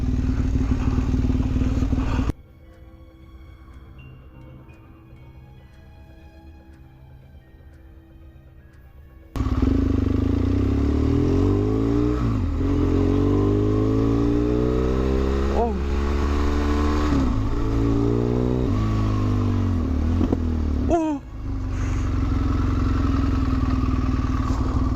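A motorcycle engine revs and accelerates close by, its pitch rising and falling in sweeps after a quieter stretch near the start, with a sudden clattering jolt toward the end.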